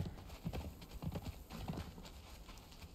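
Horse hooves clip-clopping in the video game Conan Exiles, a quiet, uneven run of soft thudding steps in loose clusters.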